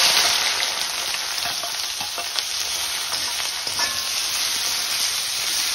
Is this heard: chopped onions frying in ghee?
yes